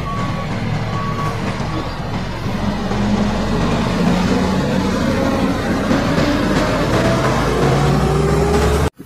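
A green toy garbage truck plays loud electronic sound effects, a steady engine-like drone with beeping tones, running continuously for several seconds before cutting off abruptly.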